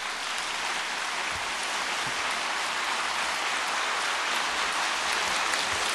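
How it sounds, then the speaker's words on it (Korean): A church congregation at an early-morning special prayer service applauds warmly, a dense, steady wash of clapping that holds at an even level for several seconds. "우리 뜨거운 박수로"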